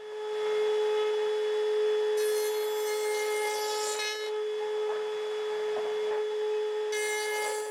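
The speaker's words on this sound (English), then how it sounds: "I'm going to cut a tenon in this wood strip" A horizontal router table runs with a loud, steady, whining motor tone while cutting a tenon in a wood strip, with harsher, brighter bursts of chewing noise each time the wood meets the bit.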